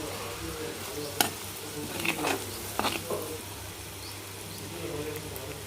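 Dry fish and turmeric go into a hot pan for a dry fish curry, raising a steady sizzle with a few sharp stirring clinks and scrapes, close by and moderately loud.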